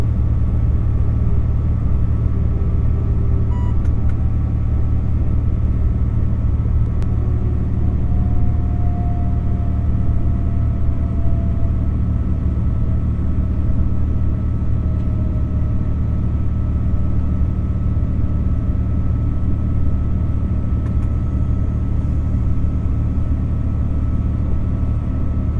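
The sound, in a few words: BB 22200 electric locomotive braking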